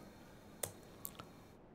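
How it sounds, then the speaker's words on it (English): A few faint, sparse clicks from keys on a computer keyboard sound in a quiet room, with three light taps spread over a second. "let's type text"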